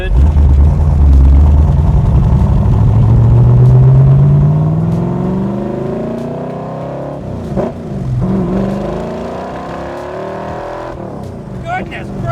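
A 1965 Backdraft Cobra RT4 roars as it accelerates hard, its engine note climbing steadily through second gear and easing off before a brief rev, loud and close, with people talking over it.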